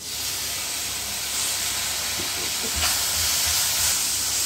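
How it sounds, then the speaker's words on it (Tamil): Ginger garlic paste sizzles with sautéed onions and green chillies in a pan, a steady close hiss that runs throughout with a few soft stirring knocks. "இஞ்சி பூண்டில் பச்சை வாசனை போகிற வரைக்கும் நல்லா வதக்கிக்கோங்க"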